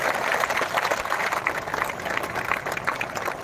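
Audience at a live Hindi comedy poetry show in Rajnandgaon claps loudly for soldiers who have stood guard for hours, a continuous wash of crowd applause throughout.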